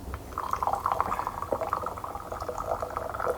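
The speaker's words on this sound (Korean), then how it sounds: "물소리가 아주 청아하고." Tea water poured inside a small traditional old house in Gongju, a quiet, clear trickle of water running continuously, soft and close, with no voices.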